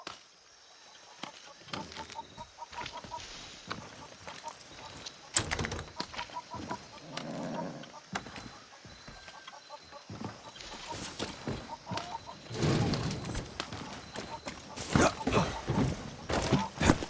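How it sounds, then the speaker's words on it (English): Fighting rooster clucking on a farm in Far Cry 6, with scattered clucks and calls over hoof clip-clop and other game sounds, moderately loud and uneven throughout. "It's my fighting rooster, El Gallo Magnifico."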